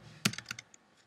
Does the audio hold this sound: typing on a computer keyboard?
yes